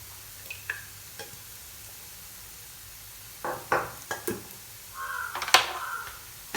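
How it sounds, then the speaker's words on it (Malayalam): A spoon stirs and scrapes through a spiced Iftar snack mixture in a pan, giving sparse, close clinks and scrapes. A crow caws nearby in the background, and no one speaks. "എന്നിട്ട് ഇതൊന്ന് നന്നായിട്ട് മിക്സ് ചെയ്ത് എല്ലായിടത്തേക്കും പാകത്തിന് ആക്കിയെടുക്കാം."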